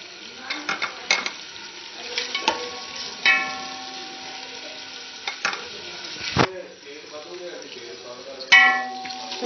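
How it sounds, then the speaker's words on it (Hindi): Onions being browned in oil in a home kitchen pan while dal is cooked, with a steady sizzle broken by scraping stirs and clinks of a spoon against the pan, close and fairly quiet. "तो अब मैं प्याज जो है ऑयल में ऐड कर देती हूँ। प्याज को हमें अच्छे से ब्राउन करना है।"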